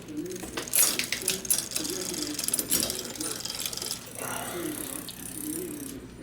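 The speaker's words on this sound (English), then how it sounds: "So first we're going to start off by shifting it into the smallest cog." A bicycle's rear derailleur clicks and ratchets as the chain shifts down into the smallest cog during a repair, giving close, busy mechanical ticking and whirring with no talking.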